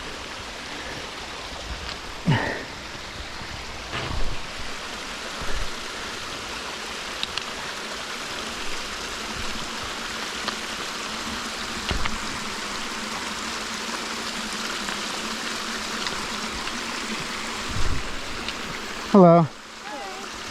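River water rushing past a hiking trail crossing in the White Mountains, a steady broadband flow that fills the whole stretch, with a brief spoken greeting and a few scattered footsteps and handling noises.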